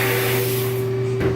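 Abrasive blasting of a gun part before coating, a loud continuous hiss of blast media with a steady compressor hum underneath, easing slightly near the end with no talking.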